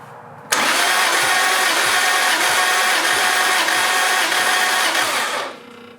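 A turbo Toyota IS300 engine cranks on the starter for a compression test, a loud even rhythmic whirring that kicks in suddenly, holds for about five seconds and stops, with no speech.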